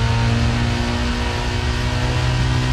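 A BMW's engine in the video game Need for Speed Most Wanted holds a loud, steady, droning rev with a constant hum and no talking.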